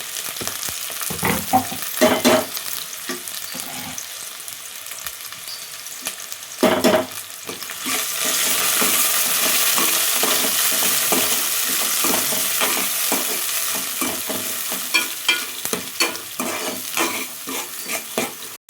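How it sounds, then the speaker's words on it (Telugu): Sliced onions and green chillies fry in a pan, with repeated scraping and clattering strokes of a stirring spoon over the sizzle, which swells into a loud, steady hiss midway. "ఇప్పుడైతే వేగిపోయింది ఉల్లిగడ్డ"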